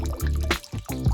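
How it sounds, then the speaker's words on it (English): Water is poured from a bottle or tap into an empty plastic bottle, giving short splashy gurgles in a few separate bursts with brief gaps between them. "I'll take an empty bottle and pour in some water"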